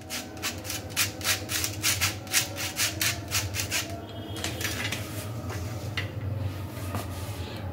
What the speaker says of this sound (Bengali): এইভাবে চামচ দিয়ে প্রেস করে করে আমি পুরোটাকেই ভালোভাবে ছেঁকে